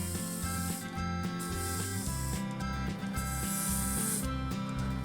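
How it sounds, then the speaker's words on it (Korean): A hole being drilled into a cut wooden fountain pen blank to hold the ink converter, a steady whirring, grinding machine noise with a repeating pulsing rhythm, fairly quiet and continuous throughout, with no voices. "재단한 원목 가운데 잉크 저장 공간인 컨버터를 넣을 구멍을 뚫는 작업입니다"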